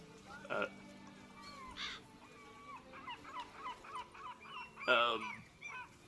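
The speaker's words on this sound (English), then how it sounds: "All these birds, are they yours?" Birds caw and honk in the Blood and Wine expansion of The Witcher 3, several short cries scattered over a quiet game ambience, one loud burst near the end.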